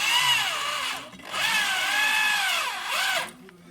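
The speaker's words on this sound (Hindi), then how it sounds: "इसे ड्रिल मशीन से आराम आराम से इसको टाइट कर लेना।" An electric drill tightens a screw on a bent TV antenna, whining steadily in two long bursts with a short pause between, close and loud with no talk.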